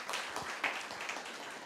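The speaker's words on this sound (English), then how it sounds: "So another round of applause again to the mentors." Audience applause for the mentors at a governance internship program convocation: a short, fairly quiet burst of scattered clapping, steady for under two seconds with no voices over it.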